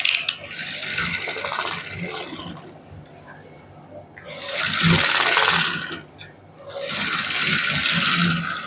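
A sewing machine stitches lace onto printed suit fabric in three loud, close bursts of rapid whirring, separated by short pauses where the motor stops. A voice may be faintly present in the pauses.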